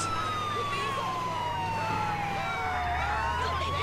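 A video game ambulance's wailing siren sweeps steadily in pitch over a low engine rumble, loud and continuous throughout.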